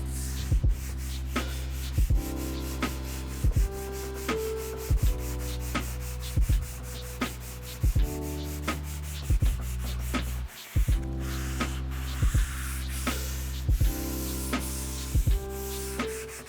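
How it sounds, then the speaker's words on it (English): A Surf Prep super fine sanding pad moves lightly over a vintage wooden buffet, making soft, rhythmic rubbing strokes about once a second over a steady background hum, close up and with no talking. "I will be going with a Surf Prep super fine sanding pad and I'm just going lightly."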